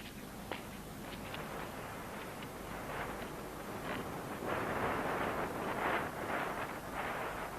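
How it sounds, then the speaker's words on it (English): Steady wind blowing across the microphone, a constant broad rush with slight swells, no voices. "In the Sahara, there is a relentless wind, not gusting but blowing steadily at about 30 miles an hour."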